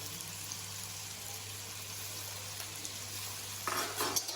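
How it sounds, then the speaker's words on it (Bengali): Carrots and beans sizzle quietly in a pan, a soft continuous frying hiss, with a brief stirring scrape near the end and no talking. "গাজর আর বিনসটা কিন্তু আমি একসঙ্গে ভেজে নেবো"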